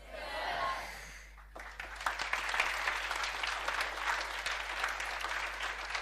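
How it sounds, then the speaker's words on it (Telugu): An audience in a classroom lecture claps, a dense burst of applause that starts after a brief pause and carries on steadily at moderate distance. "నా కోసం చప్పట్లు కొడుతున్నారు కదా మీరంతా."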